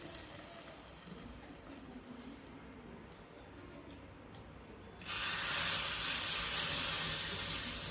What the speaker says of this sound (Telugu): ఇందులో మళ్ళీ పప్పు వాటర్ పోయేసి